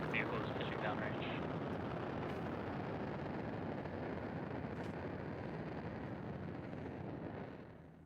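A SpaceX Starlink rocket lifts off from Space Launch Complex 40 at Cape Canaveral Space Force Station on a clear day, a continuous deep rumbling roar that holds steady, then fades near the end.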